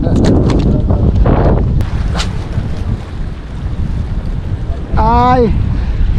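Wind blows across a fishing boat at sea, a steady gusty roar buffeting the microphone, with a short warbling chirp near the end.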